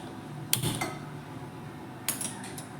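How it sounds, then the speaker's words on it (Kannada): A metal pan is set down on a stove with a sharp clank and a brief rattle, followed by a second lighter metallic knock a moment later, in a quiet kitchen. "ಇವಾಗ ನಾವೊಂದು ಪ್ಯಾನ್ ತಗೊಂಡ್ಬಿಟ್ಟು ಸ್ಟವ್ ಆನ್ ಮಾಡ್ಕೊಳ್ಳೋಣ"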